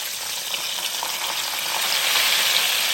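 Mushrooms sizzling and frying in a Power XL cooker, a steady bright hiss with small crackles that swells slightly louder toward the end, with no talking.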